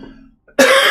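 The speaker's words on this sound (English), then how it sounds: "I keep coughing." A single loud, close cough bursts out after a near-silent pause with faint low murmuring, filling the last part of the second.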